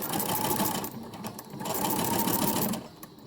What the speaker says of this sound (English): I'm going to sew right over that seam, keeping it as flat as possible.